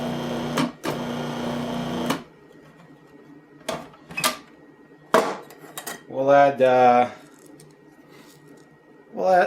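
A food processor pulsing pizza dough with olive oil in two quick bursts of whirring, followed by lid clicks, handling knocks and a short stretch of voice.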